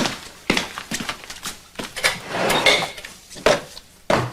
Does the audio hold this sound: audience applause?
no